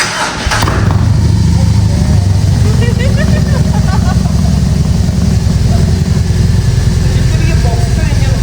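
A Harley-Davidson motorcycle engine on a reserve-fuel tank fires up after a brief starter burst, then settles into a loud, steady, thumping idle close by.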